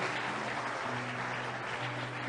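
A church congregation breaks into applause during a Portuguese sermon, a steady wash of clapping lasting a couple of seconds with a faint low hum beneath it.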